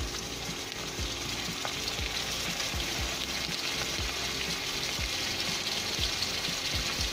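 Onion paste fries in hot oil for a shol fish and bottle gourd curry, giving a continuous loud sizzle with a repeated low scraping rhythm underneath.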